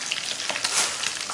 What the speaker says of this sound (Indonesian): Flavis, tinggal panaskan wajan, tambahkan minyak, kita goreng ayamnya, jangan lupa dibolak-balik